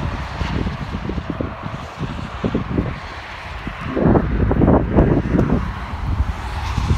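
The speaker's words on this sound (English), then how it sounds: "Today is too much windy" Strong wind buffets the microphone outdoors, a continuous low rumbling roar that swells louder and gustier in the second half, with no talking.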